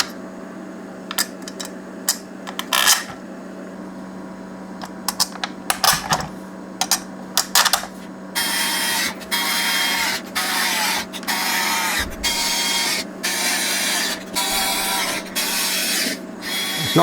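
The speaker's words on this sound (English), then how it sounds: "Let's pop these screws back in." Metal screws being driven back into a steel box on a Revox reel-to-reel tape recorder, heard as irregular close clicks and scraping bursts, then a steadier run of rattling screwdriver turns over a constant low hum.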